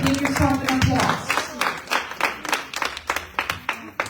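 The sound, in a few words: audience applause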